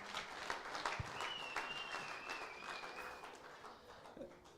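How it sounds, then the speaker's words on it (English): Golfers applaud at a fundraising golf day prize giving, steady scattered clapping from a modest crowd, fairly distant and soft, with a faint whistle partway through. "give us our big round of applause"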